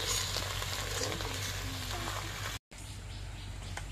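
Chili powder and turmeric sizzling in hot oil while being stirred in a pan, a steady close crackling hiss with faint scraping, broken by a brief silent gap before the sizzle resumes.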